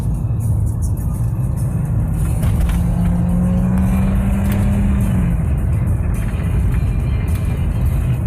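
A Peugeot 408 engine drones loud and close as paddle shifters drop two gears, with a brief rising whine over the steady cabin rumble.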